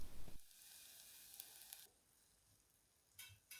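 Hash browns fry in a pan with a bright, crackling sizzle that drops quieter partway through, then flares again near the end as a spatula presses on them. Close and clear, and no one speaks.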